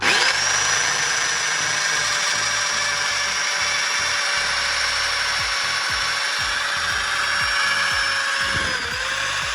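A power drill runs steadily and loudly for the whole stretch, its motor whine holding an even pitch with gritty chatter underneath.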